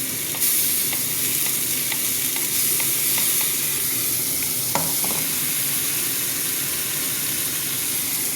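Ground ginger, onion and garlic paste fries in a hot pan, a steady close sizzle broken by regular scraping strokes of a spoon stirring it, with one sharper clink midway and no talking.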